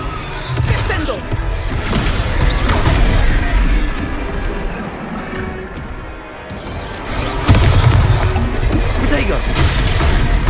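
A Descendo spell slams down in the video game Hogwarts Legacy, with heavy booming, crashing impacts that hit in a few loud bursts over continuous game noise. Someone talks throughout.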